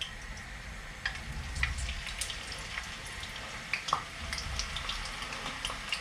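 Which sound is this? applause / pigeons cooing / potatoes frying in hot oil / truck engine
potatoes frying in hot oil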